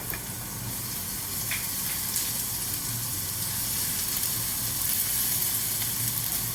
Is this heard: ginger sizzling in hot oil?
yes